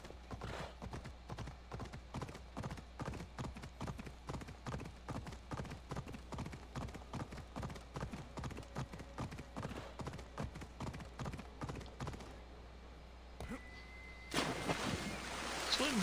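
Horse hooves in the video game Assassin's Creed beat out a steady rapid clip-clop rhythm up close, then stop and give way to splashing water.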